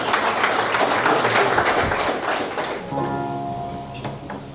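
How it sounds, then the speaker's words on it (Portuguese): Worship congregation in a Portuguese-language church service bursts into applause, a dense clapping wash that fades after about three seconds into a quieter tail with a faint tonal hum and scattered claps. "Uma salva de palmas por essa palavra."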